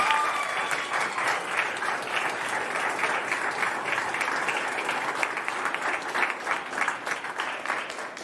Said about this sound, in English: Give a round of applause for Nancy.